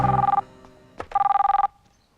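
A telephone rings loud and close in two bursts of rapid trilling bell tones, separated by a short pause and a faint rustle, with no voices.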